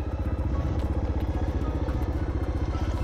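Motorcycles riding on an empty road through the Australian outback, a steady close engine drone with a rapid pulsing beat and rattling clatter running throughout.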